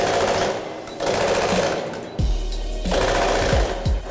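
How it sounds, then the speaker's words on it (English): Rapid, loud mechanical pounding of a foot-pedal powered speed hammer forging steel, bursts of fast hammering that stop and restart, with heavy low thumps as it spins up. "This speed hammer's powered by a foot pedal."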